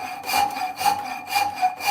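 A rasp worked across purple heartwood, four close, even scraping strokes in a steady back-and-forth rhythm, each with a gritty, slightly squeaky edge, heard alone.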